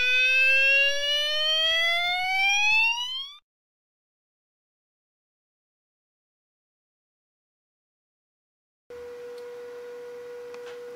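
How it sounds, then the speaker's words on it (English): A 32-tone banshee fire alarm sounder blares loudly for about three seconds with rising, sweeping tones, then cuts out into silence before a steady, constant tone starts up again near the end. "I've got a new sounder, which is a 32-tone banshee sounder with 3 volume selection"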